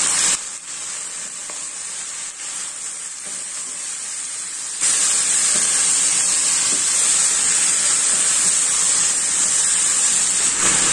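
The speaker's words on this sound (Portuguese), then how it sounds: "Vou misturar bem." Gizzards being stirred in a hot pan with onion, bell pepper, colorau, tomato and salt, giving a continuous close sizzle and frying hiss that grows louder partway through, with no talk.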